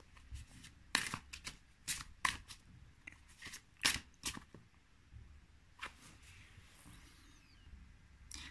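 A deck of Tarot Maregician cards is shuffled by hand close up in quiet surroundings, producing irregular bursts of crisp riffling and flicking separated by short pauses.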